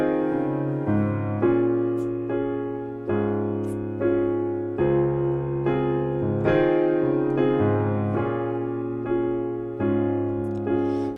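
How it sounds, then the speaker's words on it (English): Piano playing the low bass line of a song, a slow sequence of single bass notes with chord tones above, each struck note decaying before the next; close, solo, no voices. "there is that bass line. It's going to sound like this."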